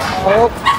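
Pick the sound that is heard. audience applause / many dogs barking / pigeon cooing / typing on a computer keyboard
many dogs barking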